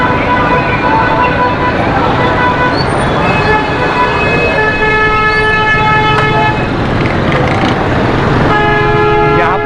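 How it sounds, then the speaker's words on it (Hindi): Buses and other vehicles stuck in a traffic jam in Orangi Town, Karachi, with loud continuous engine roar, several sustained horn blasts and toots layered over the din close by. "यहाँ पर ट्रैफिक जाम हुआ बस की वजह"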